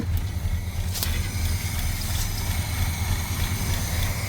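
A 1985 Monte Carlo SS engine, parked for 13 years, idles steadily with a low rumbling drone at moderate level, with faint clicks over it.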